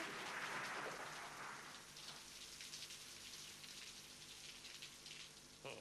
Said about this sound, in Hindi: अरे बाहर बारिश भी है